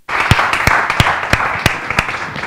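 Applause from a small audience at an entrepreneurship talk, a dense steady patter of many hands with a few sharper individual claps standing out, fairly close and sustained without any talking.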